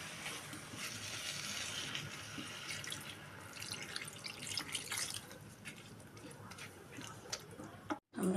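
Water pours into a curry of potatoes and pointed gourd in a cooking pot, a continuous faint splashing and trickling that runs for several seconds before cutting off.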